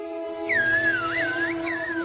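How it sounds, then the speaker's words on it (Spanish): A whistled language of Saharan nomads and shepherds: one clear, high whistled phrase that glides up and down in pitch, breaks briefly, then resumes over a steady low droning background. "comunicarse con el lenguaje de los silbidos"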